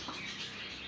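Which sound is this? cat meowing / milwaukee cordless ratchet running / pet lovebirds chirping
pet lovebirds chirping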